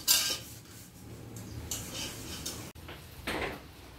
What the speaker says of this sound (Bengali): কড়াটা হাতাটা মেজে নিচ্ছি।